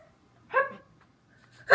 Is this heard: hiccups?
yes